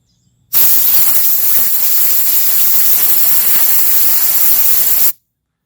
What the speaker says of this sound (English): If I take some compressed air and blow across the top of the pipe just right